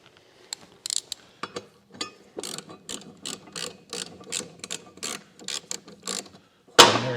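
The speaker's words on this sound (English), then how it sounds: "to use a hand wrench or a socket. That way you don't over tighten it." Hand wrench or socket ratchet tightening a part on a lawn mower, a steady series of close, crisp ratcheting clicks in short rhythmic bursts, ending with a louder metallic clatter.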